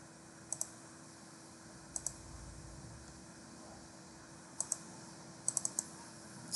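A computer mouse on a Windows 10 machine clicks quietly in pairs and short bursts, with gaps of near silence between the groups.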